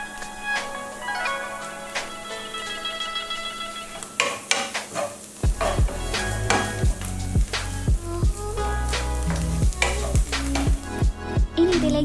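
Onion sautéing on low flame in a pan for green gram fried rice, a soft steady sizzle with repeated clinks and scrapes of a spoon stirring against the metal.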